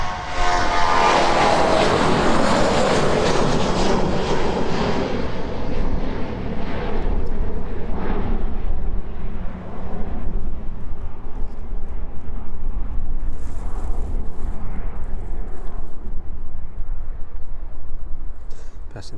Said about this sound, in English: Jet2 making its way down then just behind the tree line.